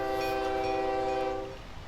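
A train in the OpenTTD video game sounds its horn: a steady, loud harmonic horn tone holds for about a second and a half, then cuts off, leaving a low rumble of the moving train.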